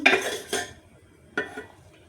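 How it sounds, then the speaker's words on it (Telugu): A metal cooking pan is set down on a stove with a few sharp clanks: two quick knocks, a pause, then a third, close and fairly quiet, in a kitchen preparing stuffed eggplant fry. "ముందుగా బాండీ పెట్టుకొని"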